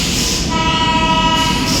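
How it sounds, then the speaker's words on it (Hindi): A train at a railway station: a loud, steady rumble and hiss of rolling wagons with a sustained horn-like tone running through it, close and continuous throughout. "अभी हम स्टेशन पे आ गए हैं"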